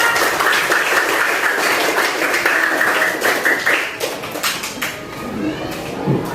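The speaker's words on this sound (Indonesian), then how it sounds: "Ayo tepuk tangan buat Rizka." A classroom of students claps for a classmate, a dense, quick patter of hands close by that thins out and fades toward the end.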